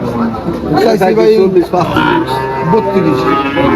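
Cattle low in drawn-out moos close by at a livestock market, mixed with people speaking and background chatter.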